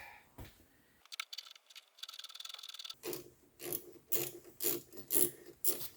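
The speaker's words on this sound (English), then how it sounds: "I'm going to put the cover back roughly in place." A cover is set back roughly in place, giving a quiet ratcheting clatter and a run of scraping clicks, then several louder knocks and rattles as it settles.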